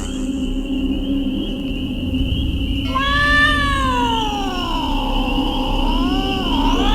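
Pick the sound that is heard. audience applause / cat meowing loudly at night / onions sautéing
cat meowing loudly at night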